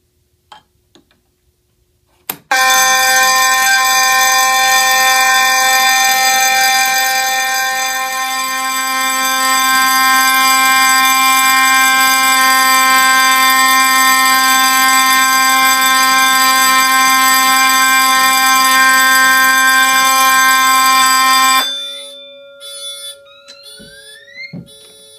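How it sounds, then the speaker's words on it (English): A fire alarm, set off by a flow-switch test on a Halon suppression system, sounds a loud, steady electronic tone with a ticking pulse for about twenty seconds, then cuts off, leaving a few faint clicks. "you're going to see everything drop straight into a full alarm as if this Halon was manually activated"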